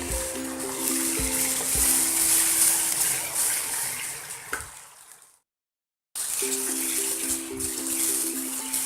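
A tomato and onion puree with Kashmiri red chili sizzles in a hot pan, giving a steady hiss of frying that cuts out briefly, then resumes.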